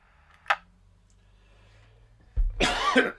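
A man with a cough that has lingered since COVID gives a sharp single cough, then a quiet pause, then a longer rough burst of coughing and throat clearing, close and loud.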